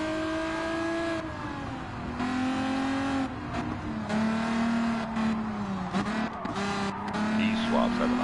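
Naturally aspirated racing cars in a video game race, engines droning and revving with shifting pitch, one car pulling ahead as others trail, steady and prominent under someone talking over them.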